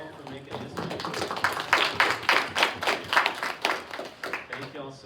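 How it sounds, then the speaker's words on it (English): An audience at a farming community conference claps, building into a lively burst of overlapping claps that swells and then tapers, with voices and cheering mixed in. "round of applause to y'all for making history"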